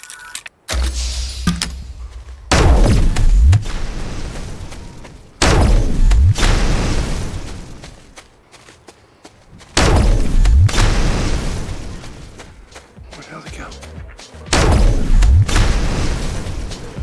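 Loud rocket-launcher explosions in a battle royale video game, four heavy booms spaced a few seconds apart, each a sharp blast that decays into a long rumbling roar.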